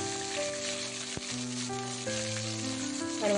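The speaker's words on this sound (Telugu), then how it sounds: "ఇప్పుడు మనం కట్ చేసి పెట్టుకున్న పచ్చిమిర్చి, ఆనియన్స్ వేస్తున్నాను." Green chillies and onions frying in a pan for rice upma, a steady close sizzle running throughout with a brief stir knock near the middle; no talk.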